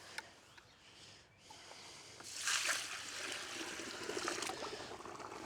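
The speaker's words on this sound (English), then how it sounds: "So now we're gonna add water slowly" Water is poured slowly into a beginner's low-cost aquarium over rocks, a soft trickling splash that swells midway and then keeps up a steady gentle pour, close by and with no talk.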